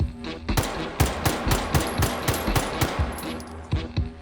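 An unsuppressed pistol fires in H3VR, a rapid series of roughly a dozen sharp, loud, close shots at a steady pace, ending with a couple of spaced final rounds.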